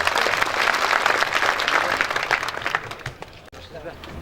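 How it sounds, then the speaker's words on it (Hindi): Audience applause welcoming a former MP from Ujjain at a Gurjar community gathering in Ujjain, a dense clapping wash that fades after about three seconds, with voices mixed in. "उनका तालियों से स्वागत किया जाए।"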